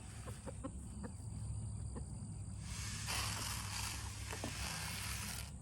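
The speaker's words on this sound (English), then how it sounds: "I love chickens. Don't you just love chickens?" Chickens clucking at close range while being fed outdoors on a homestead, scattered short clucks over a steady background hum with a burst of rustling noise midway.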